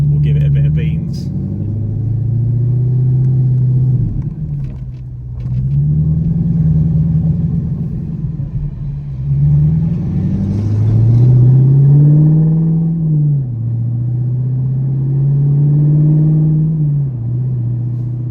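An Audi R8 with the R-tronic gearbox in auto and a Quicksilver aftermarket exhaust drives along, its loud, deep engine note rising and falling through repeated gear changes, with a brief crackle early on and voices now and then.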